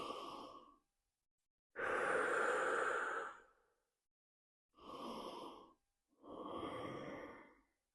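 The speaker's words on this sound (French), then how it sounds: "venir prendre des grandes respirations" Deep breaths drawn and released during a guided meditation: four slow, close breath sounds with silent gaps between them, the second one long and full like a heavy sigh.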